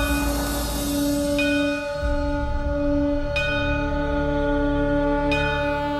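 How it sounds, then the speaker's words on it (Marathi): A temple bell rings during Navratri puja, struck about every two seconds, its bright metallic tone sustaining and ringing over a steady background hum. "हा घंटानाद"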